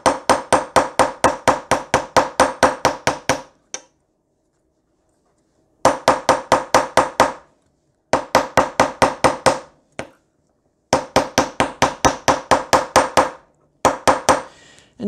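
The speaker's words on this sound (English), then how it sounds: "that's the curved edge of my bench block. So now we're just going to flatten a little bit." A hammer strikes wire laid on a steel bench block, flattening it in rapid, even bursts of sharp metallic taps, close and loud, with short silent pauses between runs.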